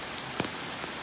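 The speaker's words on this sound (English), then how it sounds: "the rain is just getting stronger and stronger" Heavy rain pours steadily onto a cabin in the woods during a storm, a dense even hiss with a single sharper drip or knock partway through.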